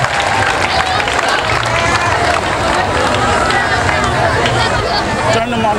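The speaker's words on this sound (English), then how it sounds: "Let's give him a heavy round of applause." Dense crowd noise with clapping and chatter, a loud sustained burst of audience applause mixed with voices.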